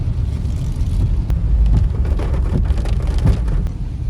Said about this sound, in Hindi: यहाँ पे बारिश अच्छी खासी तेज होनी शुरू हो गई है